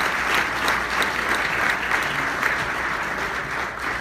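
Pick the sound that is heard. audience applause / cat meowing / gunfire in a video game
audience applause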